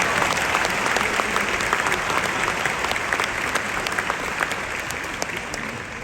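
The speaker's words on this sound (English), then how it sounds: "Another big round of applause." A large audience at a university graduation ceremony applauds in a continuous, dense wash of clapping that holds steady and fades slightly toward the end.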